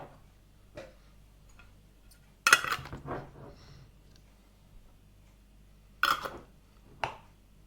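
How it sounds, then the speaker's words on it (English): Metal lids are screwed hand tight onto glass canning jars before pressure canning, making a few sharp clicks and brief scraping twists separated by quiet pauses, close by and without talk. "Now we put them on, and then we put them hand tight, not too tight."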